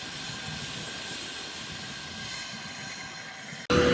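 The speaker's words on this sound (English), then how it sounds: "we'll get the drone up in the air and have a look at what we've got here" A drone flies near maize planting fields, giving a faint steady whirring hum that holds evenly and then cuts off abruptly into a louder burst of noise, with no voices.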